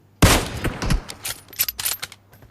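Gunfire in PUBG Mobile on the Erangel map: a loud opening burst followed by several quicker, fainter volleys of rapid shots over about two seconds, no speech.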